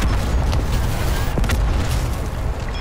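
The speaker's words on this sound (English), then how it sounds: "Your sniper's nest has been hacked and destroyed." A sniper's nest blowing up in Black Ops 4, a loud, rumbling explosion with heavy low boom and sustained debris roar across the whole stretch.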